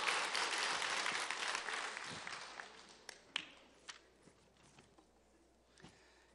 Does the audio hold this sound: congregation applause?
yes